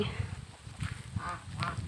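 Geese on a Thai family farm with a fish pond and chickens honk in a string of nasal calls, fairly close, with farm background noise between them.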